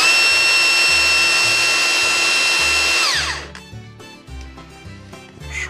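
A Milwaukee M18 cordless hammer drill in plain drill mode whirs loudly and steadily for about three seconds, then winds down and stops.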